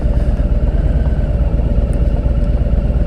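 Harley-Davidson Milwaukee-Eight V-twin motorcycle engines idle nearby, a loud, steady, low loping rumble with a slight clatter that continues without pause, no voices heard.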